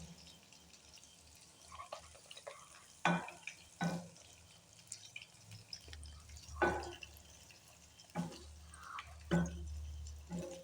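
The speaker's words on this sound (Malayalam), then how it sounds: "നല്ല രീതിയിൽ തന്നെ ഫ്രൈ ചെയ്തെടുക്കണം." Food frying in a pan and being turned, a low steady sizzle broken by several sharp scraping knocks of a utensil against the pan at irregular intervals, close and moderately quiet.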